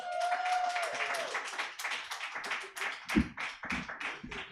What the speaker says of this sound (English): put your hands together, applaud, make some noise.